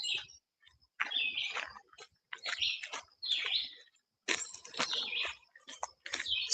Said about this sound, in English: Listen to that bird, huh? Love it. That's my favorite one.